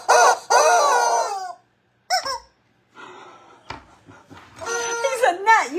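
A chicken clucks, squawks and gives a strained crow in several loud bursts broken by short silences, close and in the open, with a squeaky, rising call near the end.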